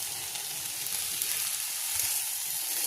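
Okra coated in gram flour fries in a pan with a steady, dense sizzle throughout, close and even, with no voices.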